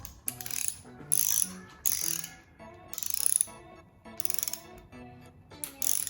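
A ratchet clicks in bursts as it tightens the cylinder head bolts on a Mini Cooper S R53 engine, close and sharp, with short rapid runs of pawl clicks between brief pauses.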